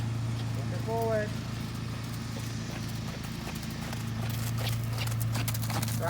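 Horse hooves clip-clop steadily through a dressage session on a 20-meter circle in an arena, a continuous low rumble of movement with a short whinny-like tone near the start; no one speaks during it.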